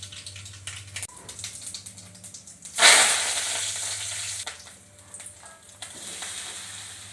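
Spices for tempering hitting hot oil while making bottle gourd dhokla, a sudden loud burst of sizzling that gradually settles into a steady crackle over several seconds, with faint kitchen clatter before it.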